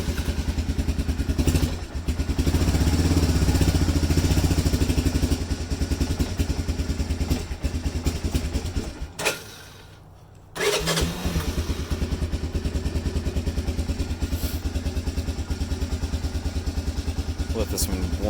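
ATV four-wheeler engine idling close by after a cold start at 39°F, a loud, steady chugging that cuts out briefly midway, then picks up again and keeps running evenly.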